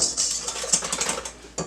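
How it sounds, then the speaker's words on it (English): Gluten-free whole grain pizza dough ingredients whisked in a bowl, a quick rapid clinking and scraping of the whisk against the bowl, close and brief. "I'm going to whisk this up for just a second."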